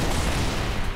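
A one-second burst of continuous gunfire in Halo: Reach, dense and loud with no gaps and no speech.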